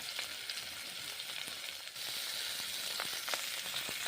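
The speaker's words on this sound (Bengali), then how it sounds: "উচ্ছেগুলোকে প্রথমে ভেজে নিচ্ছি গরম তেলে" Bitter gourd pieces fry in hot oil with a steady, close sizzle and crackle, brief spatter pops and a slight surge halfway through, with no talking.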